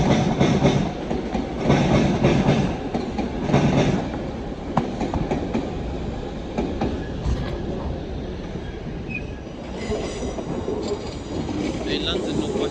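Train 378231, the 14:45 service to the junction, passes at Primrose Hill, giving a steady rumble with rhythmic wheel clatter that swells near the start and then holds at a moderate, continuous level.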